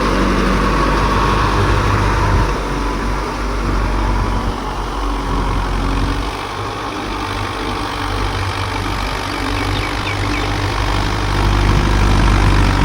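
A Mahindra 585 tech+ tractor fitted with a rotavator runs close by, its loud diesel engine holding a steady low rumble with a slight dip midway and a rise near the end.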